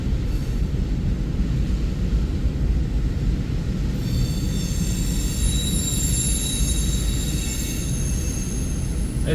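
A train rolls past at Napier, Missouri, with a constant low rumble, and high metallic wheel squeals join midway and ring on to the end.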